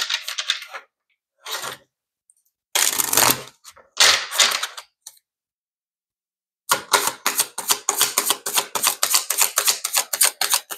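Oracle cards are shuffled in short crisp bursts of riffling and slapping, separated by pauses, then a long run of rapid, evenly spaced flicks, close up with no talking.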